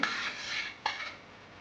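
A spoon stirs lukewarm salted water in a pot: two quick, close swishing strokes, the first longer, then quiet.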